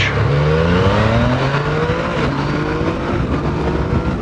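Yamaha MT-09 Tracer motorcycle engine pulling hard in fourth gear from about 3,500 rpm, a steady loud rising drone with wind rush, heard from the rider's position with no talk.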